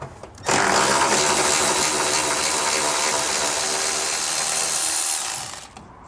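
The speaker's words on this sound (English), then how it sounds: "We'll take our ratchet here and remove our bolt." A ratchet or power driver runs continuously on a bolt of a 2018 Chevrolet Silverado during a helper spring install, a steady loud mechanical whir lasting about five seconds before stopping.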